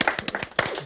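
An audience at a Geneva interview event gives brief, loose applause, a handful of separate claps spread unevenly over less than a second at moderate volume.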